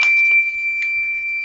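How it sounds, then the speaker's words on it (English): Fluke multimeter in ohms continuity mode emitting a steady high electronic beep, one continuous tone held through the whole stretch, clear and close, with faint handling clicks underneath. "It will see 20 ohms and it is beeping."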